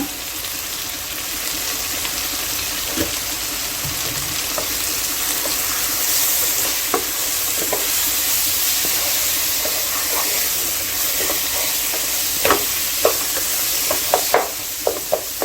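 Tomatoes sauté with turmeric in a pan for squid gravy, giving a steady, even hiss of sizzling broken by scattered small pops and light tool taps.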